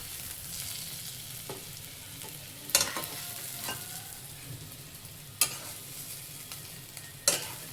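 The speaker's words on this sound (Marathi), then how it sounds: "तर कांदा आपला सोनेरी रंगावर परतला गेला आहे" Chopped onion frying to golden in a pan for maaswadi, a steady low sizzle with a few sharp spatula clicks and scrapes, close and fairly quiet, no voices.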